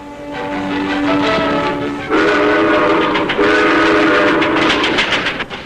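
A train runs on railway tracks in 1950s Masan, South Korea, loud and close. It rumbles with a clattering rhythm, and sustained whistle or horn tones sound partway through, with no voices.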